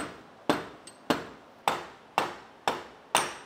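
Metal hammer strikes on a bolt, driving a BMW M62TU VANOS unit free of its housing with a vise in a DIY timing-chain rebuild on a 540i: six sharp, evenly spaced impacts about half a second apart, each ringing briefly, plus one faint tap.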